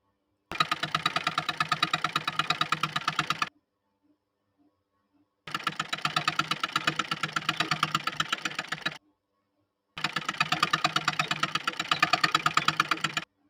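Sewing machine stitching the sleeve onto a kurti at the shoulder, running in three steady bursts of rapid mechanical clatter with short silent pauses between, close and fairly loud with no talking.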